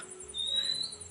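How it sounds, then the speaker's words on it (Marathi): Birds chirp outdoors at sunset as the day winds down, a thin high twittering running steadily through the short moment over a soft background hum, with no talking. "पक्ष्यांचा किलबिलाट"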